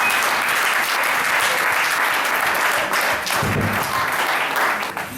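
A church congregation applauds in a dense, continuous burst of clapping that swells briefly midway and starts to fade at the end.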